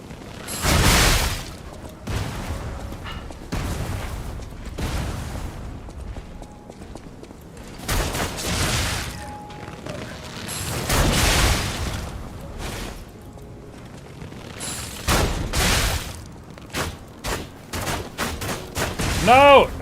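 Gunfire in the video game Lies of P comes as several loud, sharp bursts and volleys spread across the stretch, mixed with other combat noises and some voice in the background.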